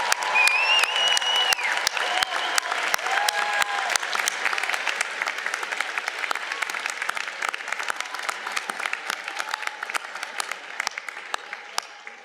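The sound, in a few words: audience applause for mothers at a commencement ceremony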